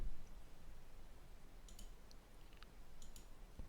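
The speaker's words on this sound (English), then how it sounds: "Let's click again." Quiet computer mouse clicks while working on a document layout, a few sharp isolated clicks over a steady low background hum, with no talking.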